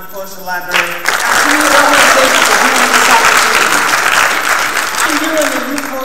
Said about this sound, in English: Please a round of applause to the library.